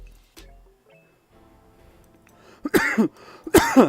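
After a quiet, faintly humming stretch, a person coughs twice, loud and close, with a short pause between the coughs.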